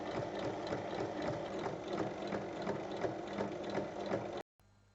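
A sewing machine stitches continuously around a pouch lining, its rapid, even mechanical clatter running for about four seconds before stopping abruptly, followed by faint quiet handling.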